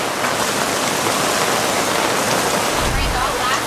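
Steady, loud rain falls as a dense, even hiss outdoors on a boat, with continuous washing noise and no distinct drops standing out.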